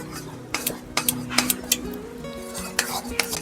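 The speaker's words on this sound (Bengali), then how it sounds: "চালের গুঁড়োটা দিয়েও খুব ভালো করে কিন্তু এটাকে একদম নাড়াচাড়া দিতে থাকতে হবে" Spoon scraping and clinking against a pan while a carrot, semolina and rice flour mixture is stirred for a Bengali sweet, with irregular sharp clicks over a soft cooking background.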